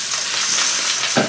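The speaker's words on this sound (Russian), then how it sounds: "Смело сыпем рис в сухую сковородку." Dry rice grains pour into a pan holding butter and lightly fried onion, giving a loud, steady sizzling hiss with a scattered rattle of grains, close up and without talk.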